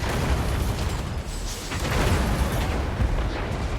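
Cannons boom and shells burst across a large artillery battle in Total War: Warhammer, loud overlapping explosions rolling on steadily with occasional sharper pops.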